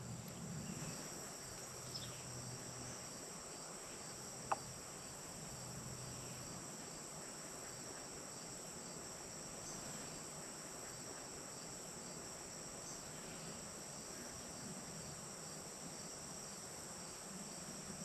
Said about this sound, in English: Bugs are loud out there tonight.